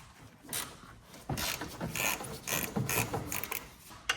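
A hand ratchet loosens bolts in the engine bay of an F30 BMW 340i with a B58 engine during a high-pressure fuel pump install: quick runs of close, crisp clicking come in several short bursts with brief pauses between them.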